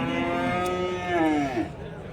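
Cows and calves at the Chintamani calf market give a loud, drawn-out moo that rises and bends downward near the end, sustained over a constant low crowd and market rumble.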